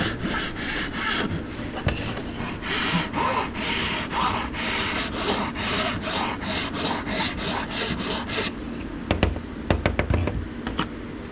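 Close, steady rasping strokes of sandpaper or a rasp on a carved wooden wand, repeating in a quick rhythm for several seconds, then a few sharper scrapes and taps near the end, with no talking.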